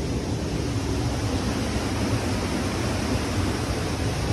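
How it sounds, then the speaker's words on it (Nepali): Spring water seeps and flows out from among stones at a village drinking-water source, a steady broadband rush with no pauses, close and unchanging throughout. "पानी चाहिँ यसरी आउँदो रहेछ हेर्नुहोस् है"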